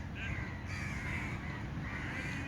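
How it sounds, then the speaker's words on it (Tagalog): Crows caw repeatedly from nearby trees, several harsh calls overlapping over a steady background hum, with no talking. "At yung punong kahoy dito, ang daming umiiyak na ibon."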